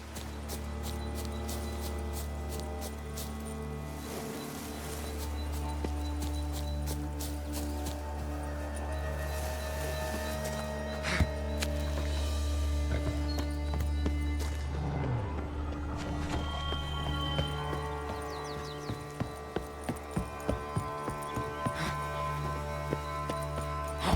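Roach the horse's hooves in The Witcher 3: Blood and Wine, a quiet run of clip-clop steps late in the stretch, set under a steady musical and ambient game bed.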